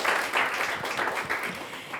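At a round table on circular fashion, an audience breaks into applause, a dense, steady wash of clapping from many hands filling the room for a couple of seconds.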